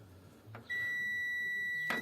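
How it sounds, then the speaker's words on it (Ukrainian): An Electrolux appliance showing error 66 gives a long, steady electronic beep that starts after a short click and holds for over a second, ending with another clack; fairly quiet room, no talking. "О, чуєте, пищить."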